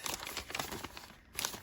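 A plastic sleeve holding a pressed leaf crinkles close up in short, soft rustling bursts, with a brief quiet gap before a final crackle.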